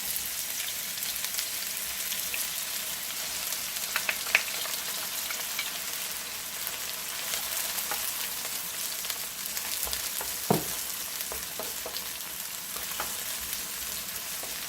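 Chopped onion frying in heated oil for Guyanese cook-up rice, a steady broad sizzle running throughout with a few sharp pops and crackles, no talking.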